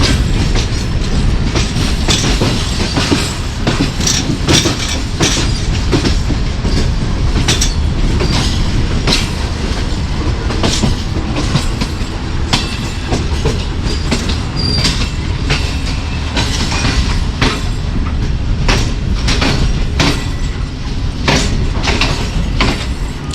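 An early-morning passenger train with an air-conditioned parlour car runs along the railway, its loud, continuous rumble and rhythmic clickety-clack of wheels steady throughout, with no talking.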